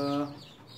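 A brief, close, faint chirp from young ornamental Kate (bantam) chicks, a short tonal peep that fades quickly into quiet background.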